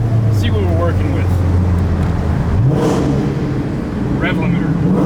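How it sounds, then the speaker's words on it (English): A Volvo S80 engine revs once under a concrete underpass, its echoing rise and fall building loud and near over a steady idle while a voice talks over it. "let's get some reverberations going on with the little rev under the underpass"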